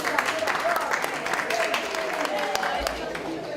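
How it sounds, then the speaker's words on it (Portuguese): Audience applause at a workplace social-relations event, a steady wash of many hands clapping at moderate loudness throughout, with a tone and some voices mixed in. "uma salva de palmas para a Grace."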